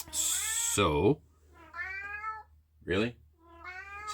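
A house cat meows repeatedly at close range, long drawn-out calls with a caterwauling edge, alternating with someone talking.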